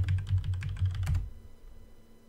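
Quick bursts of close keystrokes on a computer keyboard as a game name is typed into a PC search box, a steady rapid patter that stops abruptly partway through, leaving quiet room tone.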